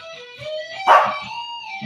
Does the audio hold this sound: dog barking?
yes